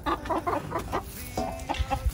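Backyard coop chickens cluck in quick close bursts, a run of short clucks followed by a few more scattered calls, with no voices over them.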